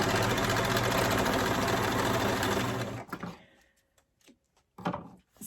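Overlocker stitching elastic at a long stitch length, a loud continuous rapid mechanical hum for about three seconds, then cutting off into quiet handling clicks and rustles.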